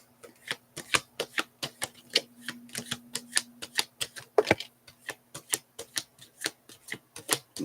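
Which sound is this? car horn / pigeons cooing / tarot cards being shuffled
tarot cards being shuffled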